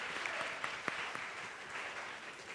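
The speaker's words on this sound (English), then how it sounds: "You all give them a round of applause, please." Audience applause for the winning teams at a university math fair, a steady wash of clapping from a crowd that keeps going without a break, with no voices on top.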